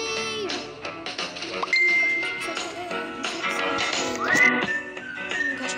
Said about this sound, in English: Just sorry for the sound, guys, because someone's texting me.